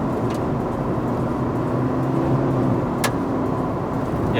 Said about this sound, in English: You can still hear the CVT whine and the engine noise a little bit